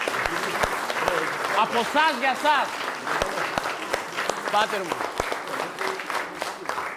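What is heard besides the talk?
audience applause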